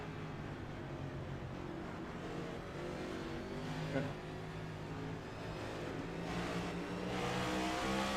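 Race cars roar in a continuous, steady engine drone at the start of a race at Indianapolis Motor Speedway. The sound is dense and fairly distant and stays constant throughout.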